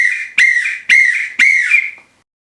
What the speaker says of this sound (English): So I'm going to use this whistle to start and to stop my music.